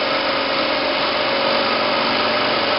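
An alternator driven by an engine runs steadily as its speed is raised, giving a loud continuous mechanical drone with a constant tonal whine and no pauses.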